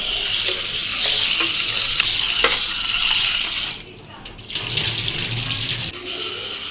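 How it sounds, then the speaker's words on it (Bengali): Rice being washed in water, with steady splashing and trickling that runs nearly continuously, dips briefly midway, then resumes close up with no talk. "এখন চাল ধুয়ে নিচ্ছে"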